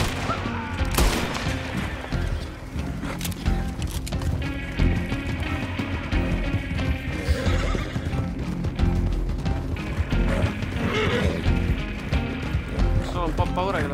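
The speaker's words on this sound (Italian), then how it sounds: "Mi sono montato col cavallo sopra" Horse whinnies and clip-clopping hooves from Red Dead Redemption 2 online gameplay, mixed with bursts of gunfire and game sound effects, while someone talks over the action.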